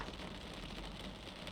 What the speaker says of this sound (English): So as you can maybe hear and maybe see on the windshield, it is already sprinkling rain.